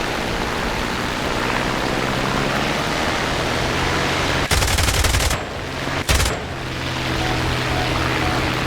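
Aircraft machine guns fire in War Thunder over steady engine and wind roar: one sustained burst of rapid rounds lasting nearly a second, then a second short burst.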